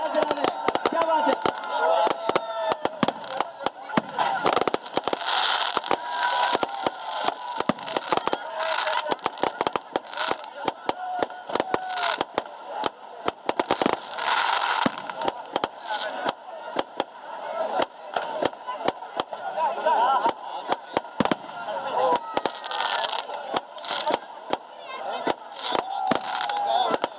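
Dense crackling bursts of New Year fireworks and firecrackers pop continuously through a celebration in Pakistan, with broadband bangs stacking up over a steady background din and voices talking and cheering underneath.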